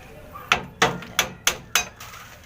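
A hammer strikes about six sharp, evenly spaced blows while knocking a bolt and clamp off a diaphragm chamber. The metallic impacts are close and clear, each one ringing briefly.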